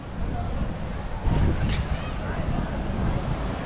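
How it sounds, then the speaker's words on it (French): Sea waves on a Barcelona beach give a steady broad rush mixed with gusty wind noise on the microphone, with a slightly stronger surge midway. "Les vagues, elles sont immenses."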